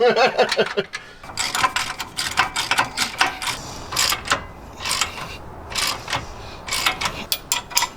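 Torque wrench tightening bolts while fitting a brake caliper on a Jeep JL Wrangler, a run of loud close ratcheting clicks and mechanical clatter in quick irregular bursts, no talking.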